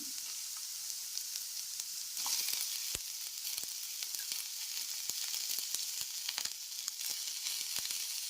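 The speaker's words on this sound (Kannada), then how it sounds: "ಇದನ್ನು ಎಣ್ಣೆಯಲ್ಲೇ ಟೊಮೊಟೊ ಸಾಫ್ಟ್ ಆಗೋ ತನಕ ಇದನ್ನು ಹುರ್ಕೋಬೇಕು" Onion and tomato frying in oil for radish chutney, a steady crackling sizzle with scattered sharp pops and stirring clicks throughout, no voices.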